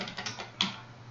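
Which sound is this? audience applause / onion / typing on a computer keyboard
typing on a computer keyboard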